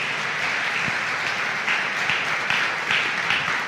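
Church congregation clapping together during a sermon service, a broad wash of many hands with a few louder rhythmic claps standing out, moderately loud and continuous.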